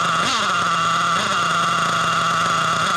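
A Losi LST XXL RC truck motor running steadily at a close, loud, even pitch, with a couple of brief rises in tone and no talk.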